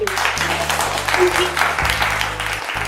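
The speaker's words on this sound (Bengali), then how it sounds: "হয়ে যাবে না জোরে হাততালি" Loud, dense applause fills an indoor family contest event at a jewellery store, steady clapping from a crowd with a voice faintly under it.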